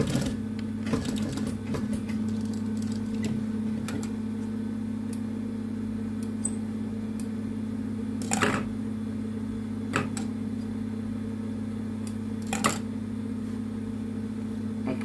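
A sewing machine stitches along a flared, bell-bottom trouser leg during a leg alteration, giving a steady close mechanical hum with a few sharper clicks and knocks along the way.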